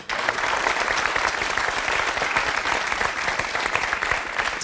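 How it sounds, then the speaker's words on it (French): Steady studio audience applause on a French talk show, loud, dense and sustained throughout after a couple mention their upcoming wedding anniversary. "Applaudissements."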